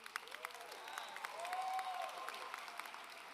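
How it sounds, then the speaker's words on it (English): Applause for a teacher at a high school graduation ceremony, a faint, distant patter of many hands in a large space, with a few cheers and whoops rising briefly over the steady clapping. "Give her another round of applause."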